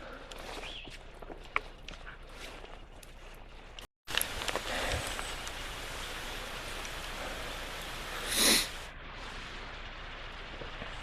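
Steady hiss of rain falling, soft and constant, with a brief dropout and a louder rustling burst near the end.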